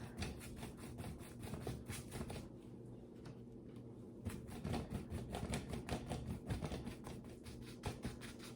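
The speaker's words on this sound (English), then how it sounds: "you'll want to do a little scrubbing to get in those grooves and fill in all those areas" A paintbrush scrubs paint into a textured canvas for a chickadee painting with rapid, repeated rubbing strokes. The scrubbing is close and quiet, with a brief pause partway through.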